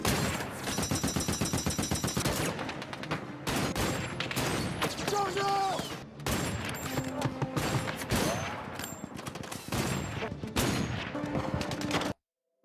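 Dense battlefield gunfire from the war film 15 Minutes of War: loud, continuous volleys of rifle and machine-gun shots with bursts and impacts, filling nearly the whole stretch before cutting off abruptly near the end.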